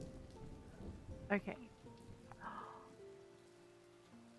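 Soft rain patters steadily in the video game Swords 'n' Magic and Stuff, faint and continuous beneath a person talking, with a few sharper game sounds mixed in.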